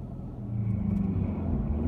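Ford Mustang EcoBoost turbo car on the road, a steady low engine rumble and road noise that swells slightly after the first half-second, heard from inside the cabin with no talking.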